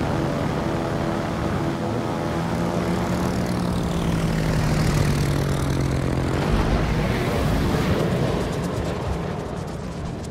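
Bomber planes take off in a naval battle video game, a continuous loud propeller-engine drone that swells and shifts in pitch as the aircraft climb, with no speech.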